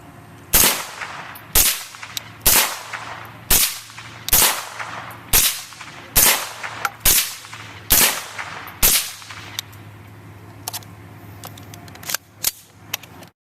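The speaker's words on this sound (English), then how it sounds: "I'm shooting this is the Kestrel 762 AK." Kestrel AK rifles chambered in 7.62x39 and 5.56 fire about ten loud, sharp shots spaced roughly one second apart, each with a short echoing tail, then two faint, quick pops near the end, with no talking.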